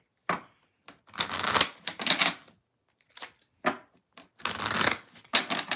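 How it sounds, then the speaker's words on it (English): A deck of tarot cards is shuffled close up in several quick, crisp bursts of riffling and flicking, separated by short pauses, with no voices. "I do the endless shuffle over here of all the cards"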